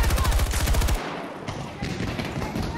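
A PKP machine gun in Battlefield 2042 rips off a loud, rapid automatic burst for about a second, then cuts out and leaves a softer, rumbling battlefield wash.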